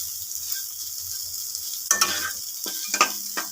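Dried shrimp frying in a pan, with a soft steady sizzle and a few short bursts of stirring near the end, close and moderately loud, no voices.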